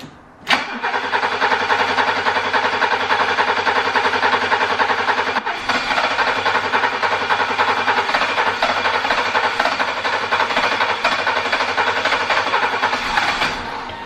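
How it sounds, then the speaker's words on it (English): BMW E30 325e engine cranking briefly and catching, then settling into a loud, steady close idle with a short dip partway through; no talk. "Let's fire this thing up, make sure we got no leaks, and see how this thing runs."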